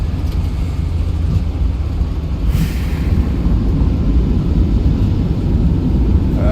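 Airliner jet engines roaring in reverse thrust on the runway after landing, a loud, steady broadband rumble and rush that holds without break from start to finish.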